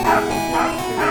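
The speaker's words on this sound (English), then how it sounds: "I'm not sure if you guys can hear my dog barking" A dog barks and yips in the background, several short repeated barks at moderate level, behind the noise of a live Pokemon Blue gaming stream.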